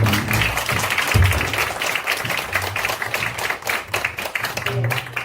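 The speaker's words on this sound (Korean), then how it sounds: "열정적으로 토론에 참석해주신 5분의 회원님께 감사의 인사 박수드립니다." Audience at a Korean medical association election debate clapping for the five candidate participants, fairly close and uneven applause with low thumps and some murmuring beneath.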